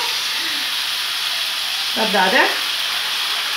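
Spaghetti frying in hot oil give off a loud, steady sizzle from start to finish, with a short spoken word rising over the hiss partway through.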